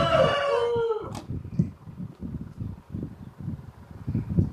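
A Nellore Kondaiah vidikaalu fighting rooster lets out one loud, close crow at the start, followed by softer scuffling and clucking sounds.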